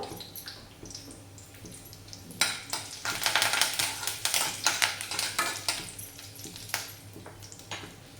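Mustard seeds and a spoonful of cumin hit a hot pan while cooking a raw mango dish, setting off a burst of close, rapid crackling and spattering after a quieter lead-in, then gradually thinning out.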